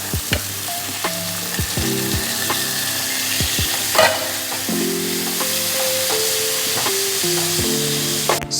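Onions frying in a pan, a loud close sizzle with regular scraping stirs of a spatula, some sharp clatters against the pan, and no voices.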